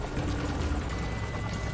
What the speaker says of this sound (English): I think the enemy chopper glitched